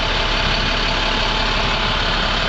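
A 2009 International stake body truck engine idles with a continuous, heavy low diesel rumble, close and steady for the whole short stretch, with no voices.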